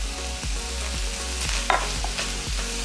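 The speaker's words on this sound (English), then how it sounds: "I'm gonna add the veggies back in" Vegetables for sweet chili turkey lettuce wraps sizzle steadily in a hot pan, with a few stirring scrapes and clinks breaking through the constant frying hiss.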